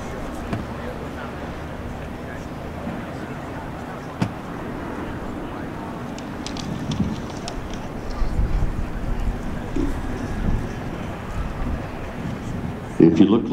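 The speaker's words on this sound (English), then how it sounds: "you may be able to hear the wind whistling through the struts, the gear, the flight controls of this 1941" Wind rushes steadily past the struts, landing gear and flight controls of a 1941 J3 Cub gliding with its propeller stopped at the Reno Air Races. It makes a low, constant whoosh that swells slightly toward the end.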